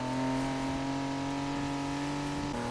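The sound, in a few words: BMW i8 engine revving in Need for Speed Heat video game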